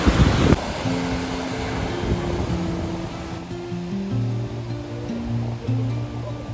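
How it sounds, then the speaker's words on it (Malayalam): Waves at Thottappally beach, a steady wash of surf with wind noise against the microphone, and a brief louder gust at the start; a musical melody plays over it. "ഇന്നിപ്പോൾ ഞങ്ങൾ വന്നിരിക്കുന്നത് തോട്ടപ്പള്ളി ബീച്ചിലാണ്"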